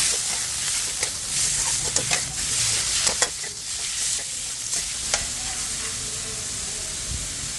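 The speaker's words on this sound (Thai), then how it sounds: "ใส่หมูลงไป วันนี้หมูแอดมินใส่อยู่ที่ 200 กรัมหรือว่า 2 ขีดค่ะ เราจะผัดไปจนกว่าหมูจะสุกค่ะ" About 200 grams of pork stir-frying in a pan, a steady close sizzle with intermittent clacks and scrapes of a spatula, no voices.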